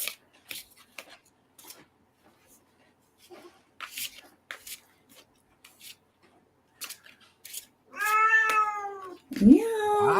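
A house cat lets out loud, drawn-out meows near the end, following a stretch of faint clicks and small noises, the last call rising sharply.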